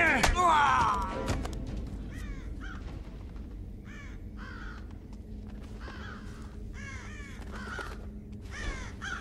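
Crows caw repeatedly in the stealth game Thief, a run of harsh calls at moderate distance over a low ambient drone, with a brief louder rustle and thump near the start.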